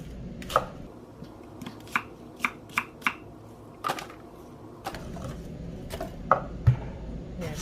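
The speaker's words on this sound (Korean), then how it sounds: "잘게 쉽게 갈리도록 잘게 썰어주세요" A knife finely chopping ingredients, including white dandelion, on a cutting board for kimchi: a loose series of crisp, close taps with uneven gaps between them, heard alone.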